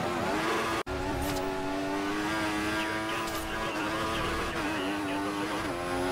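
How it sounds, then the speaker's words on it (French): Formula 1 cars race on a track in a video game, including a McLaren and a Ferrari, with a continuous high engine whine that shifts pitch and a brief dropout early on. "la McLaren va ressortir devant la Ferrari de Spitfire qu'on voit à l'instant arriver."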